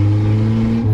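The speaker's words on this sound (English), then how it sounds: "The car, wow, it's really loud." A 1981 Toyota Corona Wagon with a 5-speed gearbox and straight-through header drones loudly from inside the cabin while driving, a steady low engine hum with a slight pitch shift near the end.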